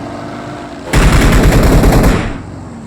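A sudden burst of rapid gunfire erupts and rattles on for over a second before cutting off, loud and close, like automatic weapons in PUBG Mobile.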